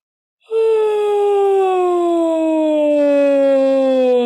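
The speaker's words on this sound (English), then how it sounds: "I want you to yawn now for me." A single long, voiced yawn-like sigh that slides slowly downward in pitch, sustained and loud, with no talking.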